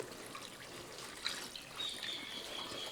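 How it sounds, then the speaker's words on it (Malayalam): Quiet trickling water poured into a curry running steadily for a few seconds, a soft continuous pour with a faint bubbling hiss, no voices. "നമുക്ക് കുറച്ച് വെള്ളം ഒഴിച്ചു കൊടുക്കാം"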